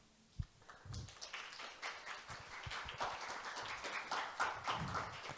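Scattered clapping from an audience welcoming a team at a mock IMO general assembly, sparse sharp claps at first, then building into a steady, moderately quiet round of applause.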